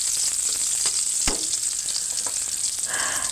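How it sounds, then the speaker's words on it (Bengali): Onions sauté in a pan with salt, turmeric and chili, giving a bright, continuous sizzle. Stirring knocks sound against the pan, including one firm thud early on, and nobody speaks. "তো পেঁয়াজ দিয়ে দিলাম, পেঁয়াজটা কষায় তারপরে নুন হলুদ মরিচ"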